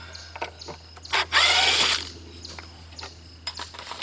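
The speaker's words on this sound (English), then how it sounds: "I love this machine. This Ryobi tool is the best." A Ryobi power tool used while mulching a garden whirs and ratchets in short bursts, with one longer loud run in the middle and brief mechanical clicks around it, close by and without talk.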